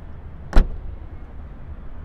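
A 2022 MG GT's trunk lid is shut by hand, giving one short, solid thud close by, with only faint background hum before and after.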